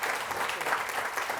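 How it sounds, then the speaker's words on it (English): An audience at a Pepperdine Graziadio luxury symposium gives a steady round of applause, dense continuous clapping from many hands at moderate distance. "let's just give them another big round of applause"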